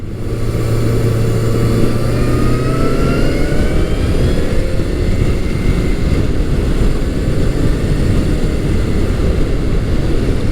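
A 1991-2003 Honda Nighthawk 750 motorcycle engine runs steadily while riding, a loud continuous drone with a rising tone as revs build smoothly, accompanied by wind noise and no talking.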